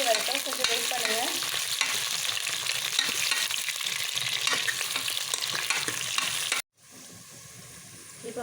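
Radish for sambar sautés in a hot pan with a continuous close sizzle and frequent stirring scrapes. It cuts off abruptly near the end and gives way to a quieter hiss.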